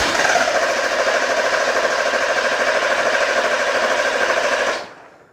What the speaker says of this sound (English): I'm gonna go ahead and crank it again, see what the pressure is.